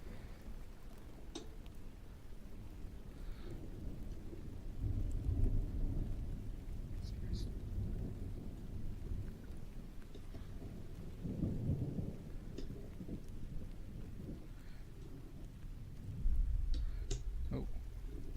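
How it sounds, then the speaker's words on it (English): Low rolling thunder from a storm swells in several slow waves over a steady bed of falling rain, the rumbles heavy and fairly close. "I love the sound of like a thunderstorm"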